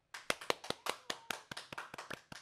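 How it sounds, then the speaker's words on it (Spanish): Applause on a television talk show from only a few hands, about a dozen sharp, distinct claps at an uneven pace, close and fairly quiet, with no crowd roar behind them. "quiero que me ayuden a dar un aplauso a mi amigo Nachito."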